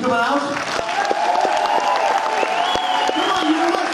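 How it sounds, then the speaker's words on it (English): A concert audience at The Egg in Albany applauds, with dense continuous clapping and a few cheers filling the hall, while a sustained musical tone rings and a voice speaks faintly underneath. "give yourselves a big round of applause"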